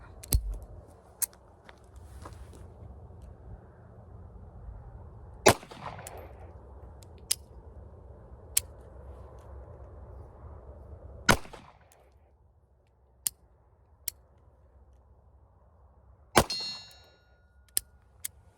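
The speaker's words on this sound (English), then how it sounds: "we'll just finish shooting some steel down range" A series of sharp .380 pistol gunshots, some fired double action, each followed by a bright metallic ring of a struck steel target, irregularly spaced with pauses, outdoors and moderately loud.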